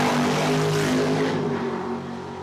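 Drag race cars launching at Cordova Dragway, a J2000 against a 1965 Mustang: a loud, steady engine roar with a deep droning tone that holds, then eases slightly toward the end.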